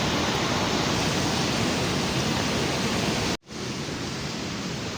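A rushing stream swollen by heavy rain in Kashmir roars loudly and steadily close by, broken only by a brief cut-out near the end.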